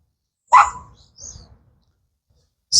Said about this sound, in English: Oh, nice puppies, by the way.